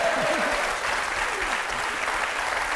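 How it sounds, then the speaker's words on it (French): A studio audience on a French TV game show applauds steadily and loudly throughout, a dense wash of clapping with a faint voice briefly audible underneath. "Je voudrais qu'on applaudisse fort Khadija quand même, qui s'en est bien sortie"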